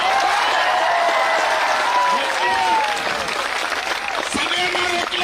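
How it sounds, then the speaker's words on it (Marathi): A large crowd at a protest rally breaks into loud, sustained applause and cheering for several seconds, with shouting voices mixed through the clapping. "जोरात टाळ्या वाजून इथून टाकून द्या."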